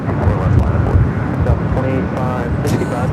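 Airliner taking off at Los Angeles airport on a gusty day, a steady broad roar of jet engines with wind noise, under a voice speaking over the top throughout.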